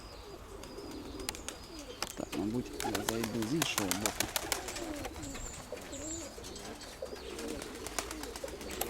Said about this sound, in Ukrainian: Високо зараз, високо голуби.